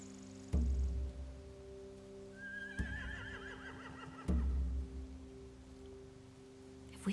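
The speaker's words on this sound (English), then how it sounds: "Scare the horses, too." A horse whinnies once, a clear rising-and-falling neigh in the middle, within a video game scene from The Walking Dead: The Final Season, framed by heavy thuds and a low steady background hum.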